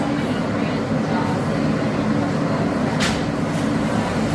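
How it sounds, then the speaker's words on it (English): An Alstom R160A subway car on a Manhattan-bound M train via the J line in New York rumbles along at a steady low drone, with a brief brighter hiss about three seconds in. "This is a Manhattan-bound M train via the J line."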